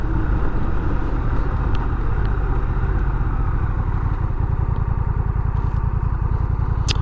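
A 2021 Honda Rebel 1100 with a DCT gearbox rumbles steadily while riding, a loud, continuous low engine drone with a rapid pulsing beat under constant wind noise.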